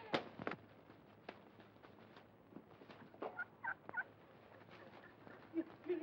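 Geese honking in a scattered, irregular series of short, sharp calls with gaps between them, moderately loud and somewhat distant, with no talking.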